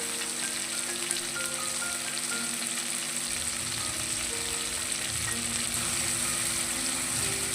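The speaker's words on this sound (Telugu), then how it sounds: "నీట్గా క్లీన్ చేసేసుకొని పక్కన పెట్టుకున్న ఎండు చేపలను కూడా ఇందులో వేసేసుకోవాలి" Cleaned dried fish fries in oil in a pan, making a continuous dense sizzle like steady rain that holds at an even, close loudness, with a slight low rumble joining partway through.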